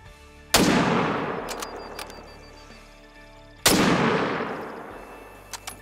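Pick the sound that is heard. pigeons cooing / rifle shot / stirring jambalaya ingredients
rifle shot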